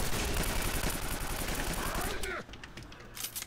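Heavy gunfire from an oversized weapon in the Quake 4 shooter game: a dense, loud roar of continuous blasts for about two seconds, then an abrupt cutoff leaving sparse rattling and faint tail sounds.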